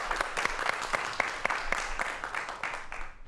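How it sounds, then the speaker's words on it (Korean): An audience at a Korean talk on mobile information security claps, producing a few seconds of moderately distant applause with distinct individual claps standing out before it thins out toward the end. "박수 부탁드릴게요."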